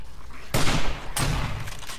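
Gunfire from the 7 Days To Die survival game during a day-seven horde night, two sharp loud bursts about half a second apart, each trailing off quickly, with no talk.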